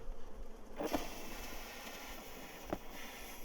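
Faint, steady honey bee buzzing inside a container, bees anaesthetized with CO2 during varroa mite monitoring, with a couple of brief louder flutters.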